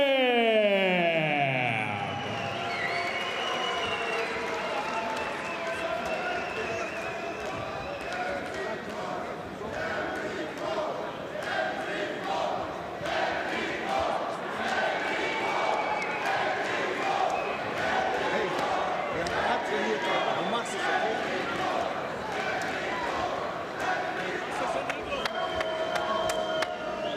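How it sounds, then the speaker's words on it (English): A large crowd roars steadily at a Mixed Fight Championship MMA event (MFC 23), a dense, loud wall of cheering that holds for the whole stretch while an announcer's voice carries over it. "Massive crowd support here at Mixed Fight Championship"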